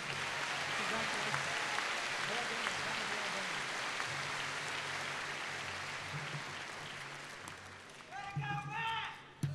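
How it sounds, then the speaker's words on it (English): Audience applause at a graduation award ceremony for associate degrees and certificates, steady clapping from a crowd that fades gradually, with someone speaking over the tail end. "Let's give Matthew Fields a round of applause."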